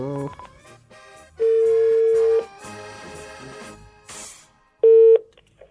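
Telephone tones: a long steady beep, then a short one later, with music and chatter playing around them.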